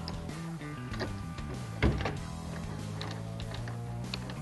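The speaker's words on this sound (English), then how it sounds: "You want to slide the rail itself between the 2 flat washers as you're installing it" A hard folding tonneau cover rail being slid onto truck bed bolts between flat washers: quiet metallic scraping and rattling with one sharp clunk midway, close by and otherwise subdued.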